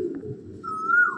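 Pigeon cooing in a breeding loft of paired pigeons, a low, steady rolling coo running throughout, with a clearer, higher call joining in over the second half.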